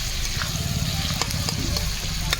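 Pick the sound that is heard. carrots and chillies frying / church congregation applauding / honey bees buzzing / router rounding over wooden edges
carrots and chillies frying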